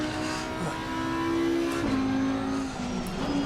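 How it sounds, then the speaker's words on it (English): A GT4 race car engine in the video game Assetto Corsa Competizione revs and shifts through gears in a steady high whine, loud and close, with a brief dip and rise in pitch. "Nice sound of this engine, though."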